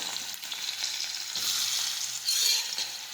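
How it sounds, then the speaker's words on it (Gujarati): Chopped onions, chillies and tomatoes sauté in hot oil with mustard seeds and cumin in a pan, giving a steady close sizzle with stirring scrapes that swell slightly midway. "ટમેટા નાખીશું સમારેલા હવે સાતળી લઈશું"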